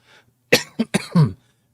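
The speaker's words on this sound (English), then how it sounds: "I apologize for my cough. I got like this dry cough going on." A quick series of four dry, hacking coughs, close and sharp, with brief gaps between them.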